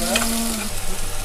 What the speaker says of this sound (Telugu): అందుకని ఈ ఉల్లిపాయని బాగా ఫ్రై చేసుకోవాలి